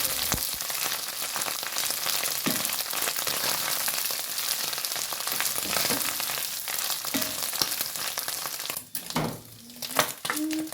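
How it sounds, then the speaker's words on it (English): Vegetables frying in oil in a pan in a rural Kenyan home kitchen, giving a steady, dense sizzle with crackles throughout and a few clinks or stirring scrapes near the end. "fry it until it becomes a little bit golden brown, not too golden brown because it will burn out"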